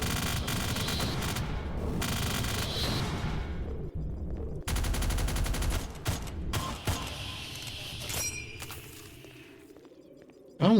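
Rapid bursts of gunfire ring out in a shooter video game as enemies are gunned down, dense volleys rising and dropping across the stretch with brief sharp reports, mixed with game music and mechanical clatter, no voices.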